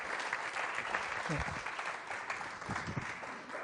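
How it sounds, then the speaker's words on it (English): Audience applause at a magic show as a volunteer named Guy comes up, a moderate wash of clapping from the crowd with a few brief low voice sounds mixed in underneath. "A nice round of applause for Guy, if you would"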